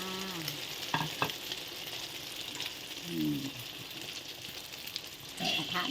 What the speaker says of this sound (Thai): ให้น้ำมันร้อนก่อนนะคะ แล้วก็เทไข่ลง นี่เทไข่ลงแล้ว